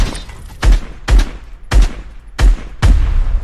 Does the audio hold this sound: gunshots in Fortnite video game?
yes